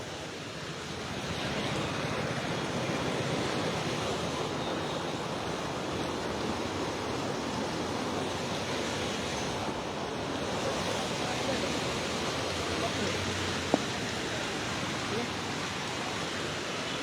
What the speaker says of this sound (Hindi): अपने उफान पर महानंदा नदी।